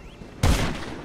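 Gunfire in a multiplayer shooting video game, a sudden loud burst of rapid shots partway through, ringing on briefly after the opening quiet stretch.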